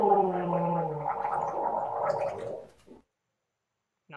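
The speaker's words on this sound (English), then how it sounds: "I always gargle." Someone gargles mouthwash, giving a close, wet, bubbling gurgle that runs steadily for about three seconds and then stops, with a short pause before a faint sound at the very end.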